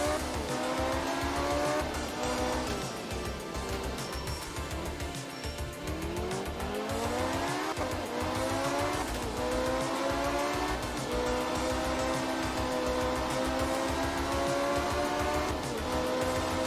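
A rally car in Art of Rally sliding and skidding with constant tire squeal over a loud, steady, revving engine drone, the pitch rising and falling through the turns.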